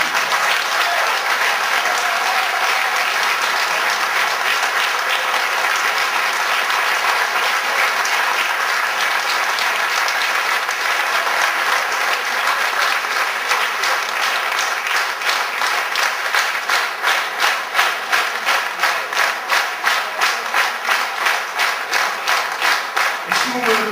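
Sustained audience applause after a political campaign speech in Saint-Gilles, steady dense clapping that turns more rhythmic and synchronised toward the end, with some voices in the crowd.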